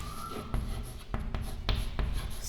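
Pen scratching numbers by hand onto paper during a maths counting lesson, a steady close run of short strokes and scribbles, with no talking.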